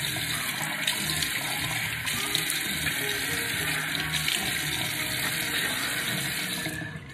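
Lukewarm tap water running into a sink for face washing, a steady hiss of flowing water with light splashing, close and continuous for several seconds and alone without talk.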